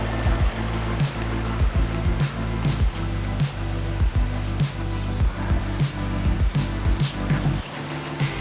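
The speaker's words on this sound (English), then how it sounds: "So here's the waterfall." A waterfall in Bali roars without a break, a dense broadband wash of rushing water with a few rhythmic low thumps, no voices.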